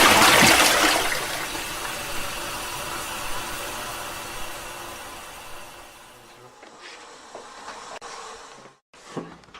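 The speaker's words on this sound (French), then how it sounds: "Il est interdit de tirer sa chasse d'eau après 22 heures sous peine d'amende." A toilet flushing, a loud rushing gush of water at the start that slowly tapers into a quieter draining hiss, with a few small knocks near the end and no voices.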